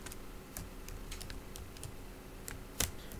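Keys clatter on a computer keyboard while someone writes an HTML button onclick function, sparse quick taps in short bursts with one sharper keystroke near the end, close and fairly quiet over a steady room hum.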